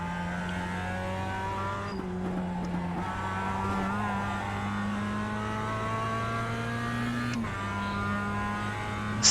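A Global Mazda MX-5 Cup race car in the iRacing simulator accelerates around Oulton Park, its engine note climbing steadily through the gears with brief drops at each shift, loud and continuous.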